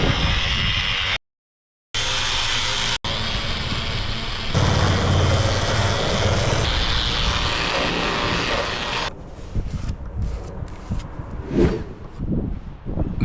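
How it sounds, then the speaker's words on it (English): Power sander running over driftwood for a workbench top, a loud continuous buzzing whir with two brief cutouts, then fading into scattered scraping and handling noises. "Now I'll go over the whole thing with a sander to remove as much splinters as possible"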